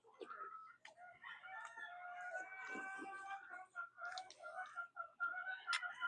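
Chickens cluck and chatter nearby on a farm, with calls that could be a rooster crowing rising among them, a busy fowl chorus that stays fairly faint throughout.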